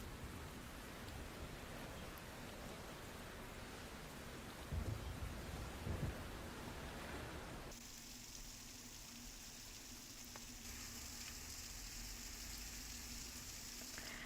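Heavy rain falls as a steady, dense hiss throughout, with a couple of brief low thumps midway and a slight shift in tone near the end, no voices present.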